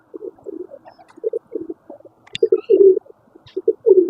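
Pigeons coo close by at a rural farmstead while being fed grain, a run of short, rounded coo phrases in quick rhythmic groups with brief gaps, clear and alone.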